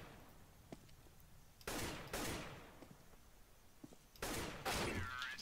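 Gunfire in CS:GO, two distant bursts of rapid shots separated by a quiet pause, with faint clicks and handling noises in between.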